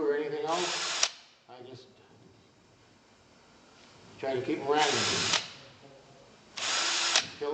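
A power drill bores a series of holes in a container, running in three loud, steady bursts of a second or so each, with quieter gaps where a person talks.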